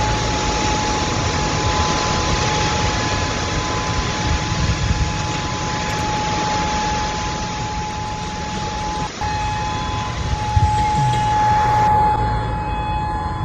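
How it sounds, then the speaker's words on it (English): A tsunami warning siren in Hawaii holds a steady, unbroken wailing tone over a thick wash of traffic and road noise throughout. "Yeah, that's the alarm that was playing earlier."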